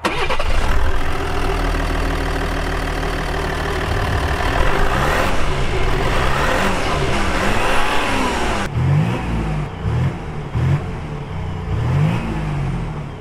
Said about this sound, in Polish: Jak na V6 to jest wręcz idealna kultura pracy, nie słychać kompletnie tego klekotu diesla